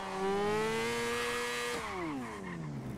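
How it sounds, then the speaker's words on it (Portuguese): A new 2023 Honda CBR motorcycle engine revs close by, holding a high whine and then dropping sharply in pitch as the throttle eases, loud and alone. "Deixa eu parar aqui a moto."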